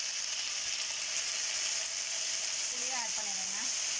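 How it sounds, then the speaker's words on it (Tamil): Onions and tomatoes sautéing in a pan for tomato chutney, a steady close hiss of frying throughout, with someone speaking briefly over the sizzle. "தக்காளி வெங்காயம் எல்லாம் நல்லா வதங்கிருச்சுங்க"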